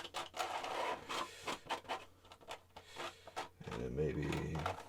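A palette knife scrapes oil paint off canvas in a badlands landscape painting, a series of close, soft rasping strokes in uneven rhythm, followed by murmured speech near the end.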